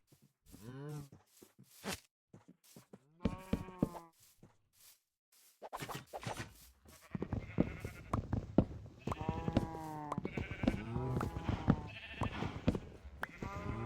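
Sheep bleat in the Minecraft video game: scattered single bleats at first, then many overlapping bleats that build into a dense, continuous chorus as the flock crowds together.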